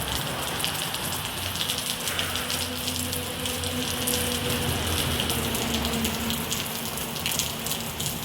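Steady outdoor rain falls and patters on surfaces nearby, a continuous hissing wash with a low hum underneath and no talking.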